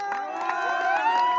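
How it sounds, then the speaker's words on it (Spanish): An audience at a clown show cheers and shouts, with voices rising in long, sustained yells, some children's among them, and a little clapping mixed in across a short, lively burst. "fuerte, pero muy fuerte el aplauso para"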